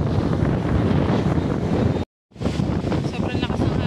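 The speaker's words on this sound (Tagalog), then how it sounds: "Sobrang lakas ng hangin." Strong gusts batter the microphone on Boracay beach in the Philippines with loud, rough roaring buffets and a sound of surf, briefly cutting out before resuming, with faint voices mixed in.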